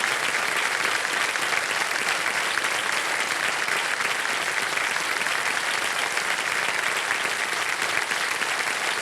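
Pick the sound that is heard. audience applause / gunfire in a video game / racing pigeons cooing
audience applause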